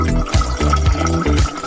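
Cartoon soda drips and splashes in a few wet, rhythmic plops, close and fairly loud, without any voices.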